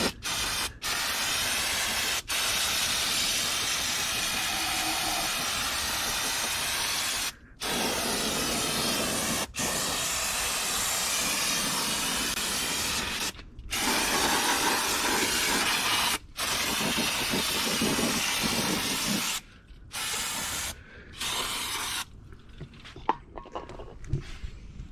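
Degreaser sprayed onto the inside of a BMW E36 M3 valve cover in long, loud hissing bursts, separated by short silent pauses, with quicker broken spurts near the end.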